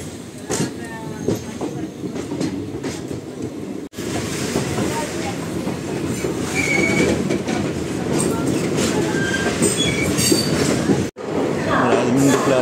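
The Kakinada Express rolls through a long curve between Rajahmundry and Godavari stations, a loud steady rumble of wheels and carriages with rhythmic clatter and faint squeals, heard from on board.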